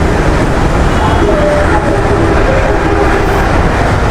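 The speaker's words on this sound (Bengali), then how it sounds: "আমরা এখন চলে আসছি সেই আগারগা মেট্রো রেল স্টেশন" Steady loud rumble of a metro train at Agargaon metro rail station in Dhaka, a continuous rail drone with faint clattering and station ambience throughout, no clear talk.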